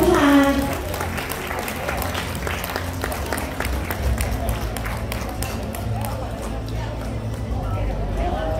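Guests at a speech club's tenth-anniversary award ceremony applaud the founding president. The clapping is dense and sustained for about eight seconds, with crowd murmur beneath it.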